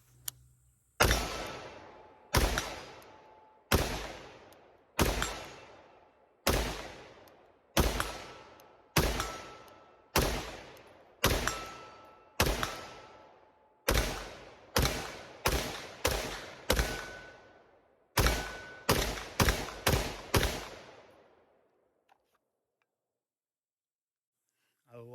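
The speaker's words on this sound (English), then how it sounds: "So let's shoot some more." A Ruger SFAR .308 rifle fires about twenty loud shots outdoors on a range, each a sharp crack with a long ringing decay. The shots come steadily at first, then in quicker clusters, before silence.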